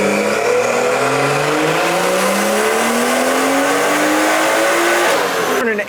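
A BMW engine revs hard on a dyno during a power run at a BMW gathering, its pitch climbing steadily through the gears before cutting off near the end. The loud, continuous roar plays alone with no talking.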